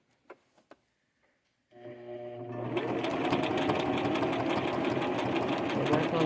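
A sewing machine stitches a purse, starting with a few soft clicks and then running steadily into a loud, continuous rapid mechanical whir that holds to the end.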